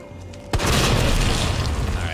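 A grenade explodes in Resident Evil 2, a sudden loud boom followed by a sustained, roaring rumble of debris and echo that fills the rest of the moment, with a low hum before the blast.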